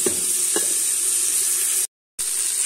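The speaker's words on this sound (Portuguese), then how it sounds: "Vou deixar fritar só mais um pouquinho, não vou deixar fritar para dourar, não." Charque, dried beef, frying lightly in a pan before garlic and beans go in: a loud, steady hissing sizzle close by, with a couple of early utensil knocks and a brief silent break near the end.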